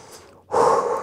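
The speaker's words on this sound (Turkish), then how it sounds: "Derin nefes al, ver." Deep breath during a rest between exercise sets, a soft inhale followed by a louder, longer exhale, close to the microphone.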